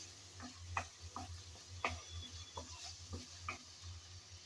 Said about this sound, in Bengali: অনবরত এভাবে নেড়েচেড়েই আজকের এই রেসিপিটা রেডি করে নিতে হবে